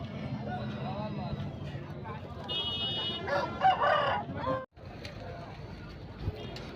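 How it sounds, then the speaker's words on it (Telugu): A rooster crows once in the middle, somewhat distant, while people talk steadily throughout at a livestock market in Rayachoti, Kadapa district. "వీడియోలో కనిపిస్తున్న కాకిటేక పుంజు తమిళనాడు అభివృద్ధికి చెందింది"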